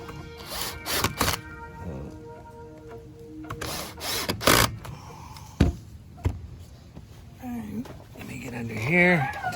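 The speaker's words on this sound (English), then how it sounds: "my lucky screw gun" A screw gun whirs in short bursts while backing screws out of a Redmax strato-charged gas trimmer, with pauses and knocks between runs and someone talking toward the end.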